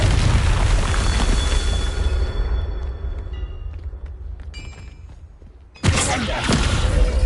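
Confringo fire-blast spell cast in the Hogwarts Legacy game: a loud sustained roaring burst that fades over several seconds, followed by a second sharp explosive blast near the end.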